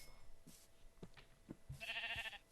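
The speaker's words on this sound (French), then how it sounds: "Oh, mouton. Oui, mouton." A sheep in a video game gives a single wavering bleat near the end, following a few soft, scattered game thumps and clicks, with no talking.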